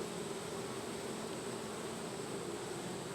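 Honeybees buzzing around hive frames during a split, a dense continuous droning hum, close and steady, with no talk.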